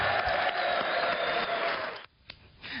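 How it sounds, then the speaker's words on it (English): A crowd of lawmakers in a legislative chamber claps in a dense, steady burst of applause that cuts off abruptly, followed by a few scattered claps. "That was a rousing applause."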